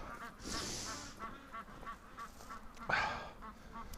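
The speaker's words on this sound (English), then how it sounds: "I hear you, Ducky" Free-range ducks quacking outdoors in extreme weather, a few scattered honking calls, faint and at a distance, with the loudest burst near the end.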